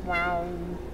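A cat villager in the Animal Crossing video game gives a single short, rising-and-falling meow, close and clear over faint background game music.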